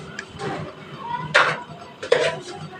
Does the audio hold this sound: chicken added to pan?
yes